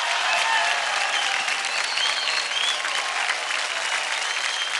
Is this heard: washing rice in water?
no